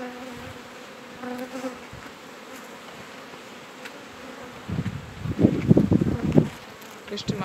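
Honey bees fly around beehives during a spring hive inspection with rapeseed in bloom, a faint continuous buzz that swells louder near the end as bees pass close.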